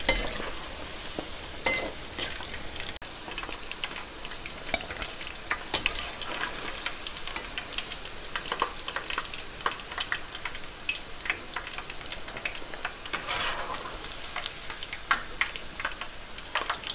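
Chicken frying in hot oil in a pan, a continuous crackling sizzle with irregular sharp pops and spatters, steady and close throughout with no talking.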